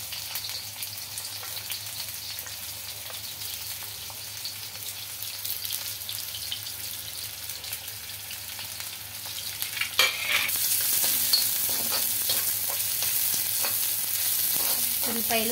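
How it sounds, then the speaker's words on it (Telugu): Sliced onions frying in hot oil in an iron kadai give a steady, close sizzle that grows fuller and brighter partway through, with occasional stirring scrapes and no talking. "ఫస్ట్ ఉల్లిపాయలు అయితే వేసుకుంటున్నాను."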